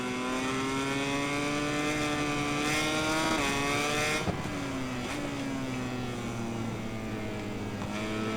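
A motorcycle engine in the racing game MotoGP 21 drones continuously and loudly, its pitch climbing and dipping slightly through gear changes and throttle shifts as the bike laps, with no talking.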